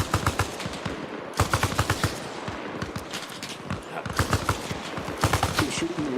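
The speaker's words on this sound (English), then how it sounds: "And we're taking a lot of fire." Battle gunfire in the Arma Reforger military video game, with loud bursts of automatic fire and scattered single shots in rapid clusters, close and continuous for several seconds.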